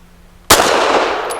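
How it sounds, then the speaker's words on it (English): A single sharp, loud report from a Walther PD380 pistol on a double-action first shot, close and sudden, followed by a long ringing reverberant tail. "I want to try a double action first shot."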